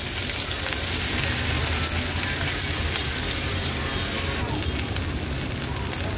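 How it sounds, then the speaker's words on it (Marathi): A handful of finely chopped onion sautéing in oil in a pan over a low flame, giving a steady, close, dense sizzle that crackles continuously with no pauses. "कांदा पण तेलावर छान परतून घ्यायचा आहे"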